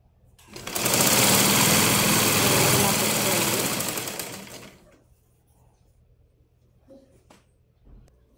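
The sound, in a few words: sewing machine stitching blouse piping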